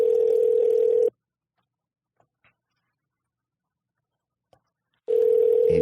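Ringback tone of an outgoing telephone call: two loud, steady buzzing rings about four seconds apart, separated by near silence with only faint clicks.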